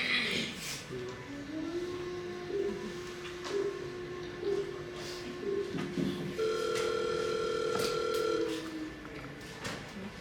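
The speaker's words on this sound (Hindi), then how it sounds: "लगाओ, एक बार फिर से लगाओ और फोन स्पीकर पे करो।" A phone call on speakerphone rings out in repeated, evenly spaced electronic ring tones, fairly close and clear, with a short tonal beep pattern near the end and a faint voice in the background.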